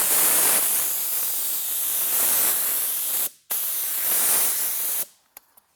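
Spray gun applying car paint in long continuous bursts of loud, close hissing, cut off by a short pause, a second pass, then trigger clicks at the end.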